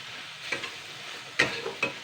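Boiled potatoes and coriander leaves stirred in a pan over a soft sizzle, with a few brief scraping strokes spaced apart, close and fairly quiet.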